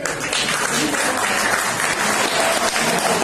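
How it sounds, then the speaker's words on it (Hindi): Sustained applause from a large audience, steady and loud throughout with no break. "तालियां बजती रहे।"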